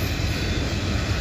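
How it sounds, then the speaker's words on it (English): A CSX freight train rolls past with a loud, steady broadband rumble and roar, heard close and continuous for a brief moment. "This is my third train today."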